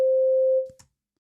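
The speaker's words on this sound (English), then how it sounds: "this sine wave is a waveform repeating at 260 times per second to generate this tone" A steady pure sine tone around 260 Hz, about middle C, sounds alone at constant loudness for roughly half a second and then fades out, followed by a brief faint click.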